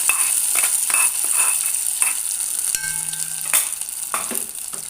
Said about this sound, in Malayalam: തേങ്ങ വറുത്തിട്ടാലാണ് എൽശ്ശേരി ആവുള്ളൂ അല്ലേ അപ്പോൾ അത് നമ്മളതിലേക്ക് വറുത്തു